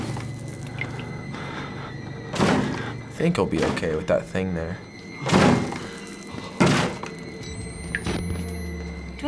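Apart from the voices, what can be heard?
knocking and pounding on a door in Outlast video game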